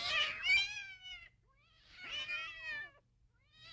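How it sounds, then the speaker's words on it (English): Cats yowl in a domestic sitcom scene, two long wavering caterwauls rising and falling, loud and close, with the start of a third at the end. "For goodness sake, Lucy, you better do something about those cats. Sounds like somebody put a hex on them"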